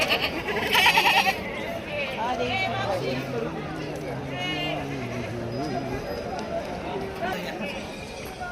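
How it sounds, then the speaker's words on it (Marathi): Several goats bleat with wavering calls at a crowded livestock market in Shirur, Pune district, one loud cry near the start and others further off beneath continuous chatter, with some hoof clatter. "चांगल्या क्वालिटीच्या शेळ्या बाजारमध्ये आलेल्या आहेत आज"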